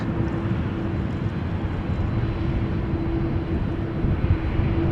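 Business jet engines at Amsterdam Schiphol Airport, near runway 22, a steady broadband roar with a faint tonal whine, distant and constant, with no talk.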